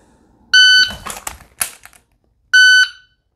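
Two sharp, loud electronic beeps from a shot timer during dry fire pistol practice, the first followed by quick clicks and handling noise, then a second identical beep after a short pause.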